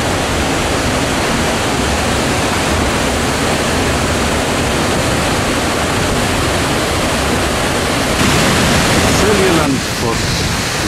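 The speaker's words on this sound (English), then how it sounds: "Not one of the better known waterfalls in Iceland, but a very nice one" A waterfall in Iceland roars as a loud, dense, unbroken rush of falling water, heard close up with a brief shift in tone near the end.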